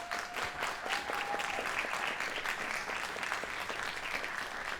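Audience applause filling a conference hall at an A MAZE Berlin 2022 event, steady and dense for the whole stretch, with a brief tonal beep early on.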